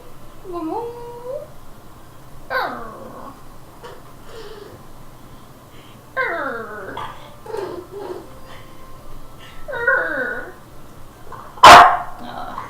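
A puppy whines in high, wavering cries spread across the clip with pauses between them, close and moderately loud, ending in a sharp yelp.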